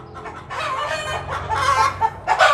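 Two small short-beaked mini ducks call nearby in a run of quick, nasal, clucking squawks that grow louder and more insistent toward the end.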